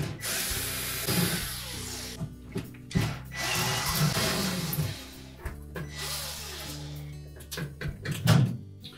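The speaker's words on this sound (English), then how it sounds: "So we'll remove all four of those screws." Screws being backed out of the broil element bracket on a Samsung range with a power driver, whirring bursts of varying pitch broken by short pauses and clicks, close up and alone.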